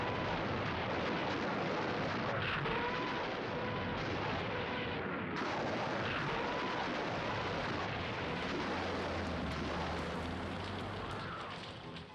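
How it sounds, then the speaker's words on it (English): Soviet artillery shells and rockets explode in a continuous, heavy roar of wartime bombardment, dense and loud throughout, tapering slightly at the end. "Soviet shells and rockets disrupt final German preparations"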